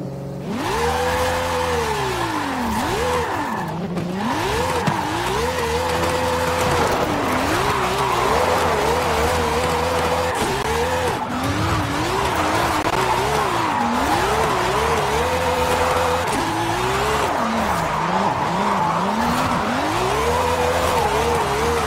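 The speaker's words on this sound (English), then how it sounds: "it's Forza Horizon 5, and today it's my first time trying to drift on this drift mountain" A BMW E60 drifting on a mountain road in Forza Horizon 5, the engine revving high and dropping in repeated swells while tires squeal continuously through long slides, loud and steady with no talk.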